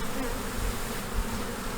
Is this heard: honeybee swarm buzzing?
yes